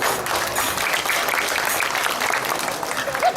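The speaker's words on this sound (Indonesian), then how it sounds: "Tepuk tangan buat penabur" Sustained applause from an audience at a Balinese Calonarang temple performance at Pura Dalem Tingas, a broad wash of clapping that holds steady across the clip with crowd noise underneath.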